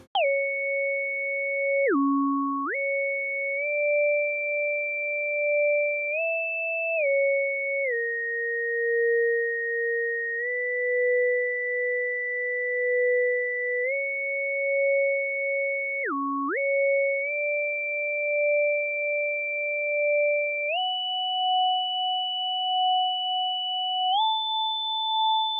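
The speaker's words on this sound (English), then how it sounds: "The synth is doing something similar again, floating above the other parts." A synth line from a track in the game Hades 2 holds steady pure tones with a higher partial above, shifting in small pitch steps and brief dips over about twenty-five seconds, alone with no talk.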